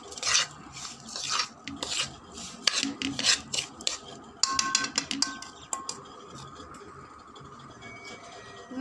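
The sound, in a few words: roasting semolina with sugar and coconut in a pan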